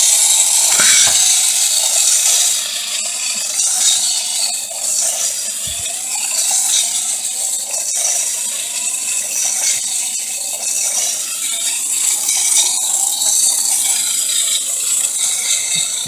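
A small RobotHut pin walker robot rocks its body and steps across a tabletop, its tiny motor giving a continuous thin whine with occasional faint ticks and rattles.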